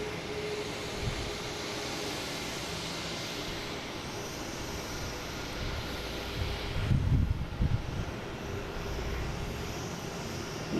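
An airliner taxis at Boston Logan International Airport, its engines a steady broad rumble and hiss from some distance, swelling briefly louder for a few seconds near the end.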